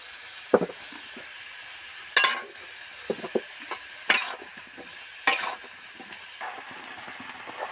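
Spices and tomatoes for a bhetki fish curry fry in a pan, a soft steady sizzle broken by several sharp scraping clatters of a spoon stirring against the metal, close and without talk.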